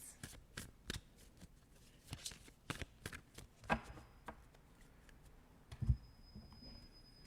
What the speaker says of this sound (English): We'll shuffle these ones.